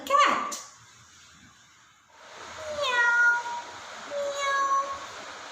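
A woman telling a children's story about a cat imitates it with her voice, giving two drawn-out 'meow' calls after a brief spoken burst, fairly close and clear.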